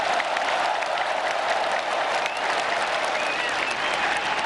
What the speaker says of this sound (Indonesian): Mana tepuk tangannya untuk Pak Jokowi?